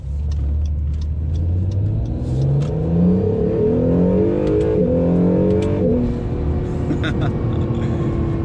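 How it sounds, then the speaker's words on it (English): A 2020 Acura NSX hybrid engine revs and climbs in pitch as it accelerates, with a whooshing intake roar and faint turbo whistling, loud and close throughout. "you have turbo spooling up, you've got this just intoxicating induction noise going from the engine"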